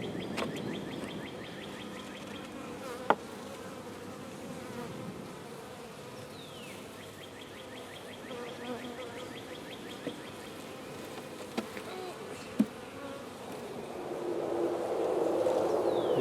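A steady, dense buzz of many honey bees fills the air around a newly split hive, with a few faint clicks and knocks, growing slightly louder toward the end.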